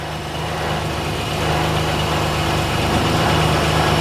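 A fire truck's engine idles steadily nearby, a continuous low rumble with a mid-range drone that holds even and unbroken throughout, no voices over it.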